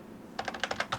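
Keys clack on a computer keyboard, about seven quick distinct taps in an uneven rhythm, close and fairly soft over a quiet room, with no talking.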